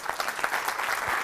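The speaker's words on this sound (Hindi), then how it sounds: "ताली होना चाहिए कि नहीं?" Audience applause at a leadership training talk, a short burst of dense clapping from a room of listeners, steady and moderately loud.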